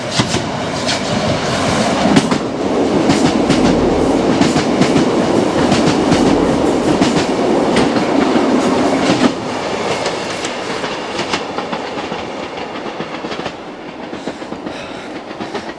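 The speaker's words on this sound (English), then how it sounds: "it was actually quite scary watching that train coming towards me" A train rumbles over a bridge at close range, wheels clattering in a steady clickety-clack with a dense roar that eases off toward the end.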